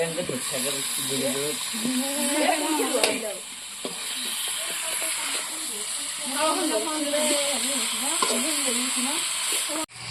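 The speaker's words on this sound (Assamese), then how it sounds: "ভাজি আছোঁ বৰ্তমান।" Meat and potatoes sizzle and hiss in a hot pan while being stirred, the frying continuous beneath a person talking over it through much of the scene.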